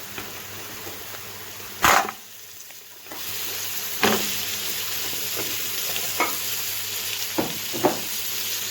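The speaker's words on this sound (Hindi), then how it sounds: "अब हम इन्हें भून देंगे जरा तेज आंच पे" Mutton trotters fry over high heat in an onion, garlic and ginger masala with a loud, steady sizzle, broken by several sharp stirring scrapes and a brief louder clatter.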